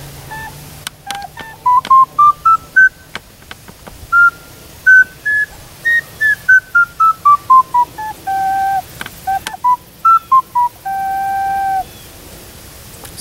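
A black teardrop pendant ocarina plays a clear, high, pure-toned melody, with short separate notes climbing and falling in a steady rhythm. It is close and alone, with no voices.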